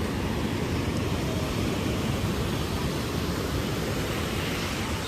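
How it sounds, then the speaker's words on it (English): Beach ambience at Kuta Beach in Bali: a steady, broad roar of surf and wind fills the scene evenly from start to finish, with no voices standing out. "Kuta Beach, Bali."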